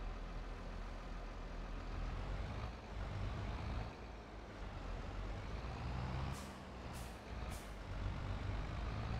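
A Farming Simulator 22 farm vehicle with a baler reverses on the Elmcreek map, its engine droning steadily, with a few short reversing beeps near the end.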